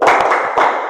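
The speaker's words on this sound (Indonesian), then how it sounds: "Nah, tepuk fokus." Classroom rhythmic clapping game 'tepuk fokus': a quick run of sharp, loud hand claps in an uneven rhythm, close and clear, with no talking.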